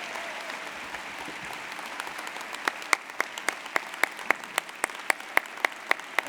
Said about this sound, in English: please join me in giving, if you will, another round of applause to the Honorable Congressman